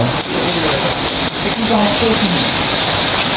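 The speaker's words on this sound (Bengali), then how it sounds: "মাশাআল্লাহ বৃষ্টির মধ্যেই কাজ চলতেছে।" Rain falls steadily at an outdoor cattle meat market with broadband patter throughout and a voice talking under it.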